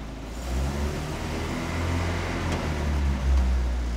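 A Renault R2067 Goelette truck engine drones steadily while driving, a loud low rumble with slight revving and no talk.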